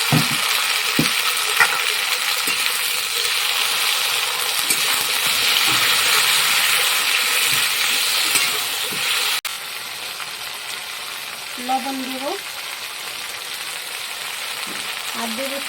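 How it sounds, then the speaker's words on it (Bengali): Onion and potato fried crisp, then ginger, cumin and chili added and sautéed in a pan, a steady close sizzle with scraping utensil clicks, quieter after a pause with brief voice-like tones near the end. "এখানে দেবো আদা জিরা আর হলো লঙ্কা এটা দিয়ে আগে ভালো করে আগে কষিয়ে নিই"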